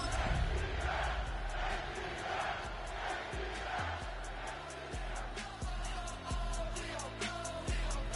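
Stadium crowd roar from a Madden NFL franchise game, a steady, loud wash of cheering throughout with music beats and booming hits layered over it.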